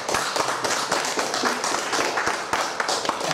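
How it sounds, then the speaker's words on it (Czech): An audience at a Czech television talk show claps in a scattered, steady burst of applause, fairly near, with a little murmuring underneath. "Myslím si, že určitě bychom tím měli minimálně zatleskat"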